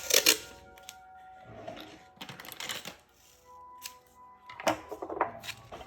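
Tape is pulled and handled while building a 50-watt amplifier head, with several sharp, crackling bursts of peeling and tearing close by, separated by quieter gaps.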